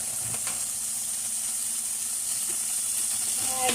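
Garlic sizzling steadily in a hot pan with chard, kale and green onion, a continuous bright frying hiss with faint crackles, close and alone without talk.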